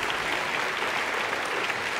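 A crowd at a community vision rally claps in a brief, dense burst of applause. It holds at an even level throughout.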